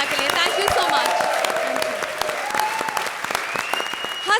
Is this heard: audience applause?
yes